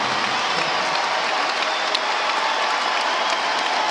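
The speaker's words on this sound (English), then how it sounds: "Listen to this crowd." A college basketball crowd at an NC State game applauds and cheers in a dense, sustained roar of clapping and shouting that holds steady throughout.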